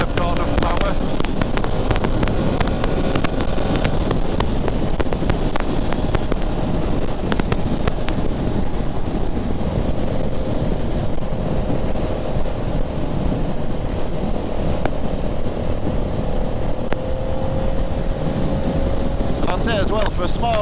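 A Ducati motorcycle engine, a 696 or S2R 800, drones steadily while riding, heavily buffeted by constant wind roar across the microphone, with a voice speaking intermittently over it.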